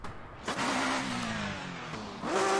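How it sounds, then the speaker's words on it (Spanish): A Skoda Fabia race car engine in iRacing on the Pikes Peak hill climb, revving hard through rising and falling gear changes at close range with no other sound. "Ya decía yo que era un sonido muy raro el de este coche"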